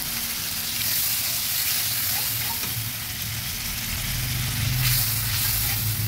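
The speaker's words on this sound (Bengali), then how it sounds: "যেহেতু গুঁড়ো মশলা, সেই জন্য আমি একটু জল দিয়ে মশলাটাকে ভালোভাবে ভেজে নেব।" Turmeric, sugar and coriander powders fry with a splash of water in a pan for a vegetarian chana dal, giving a steady, close, continuous sizzle and hiss with no talking.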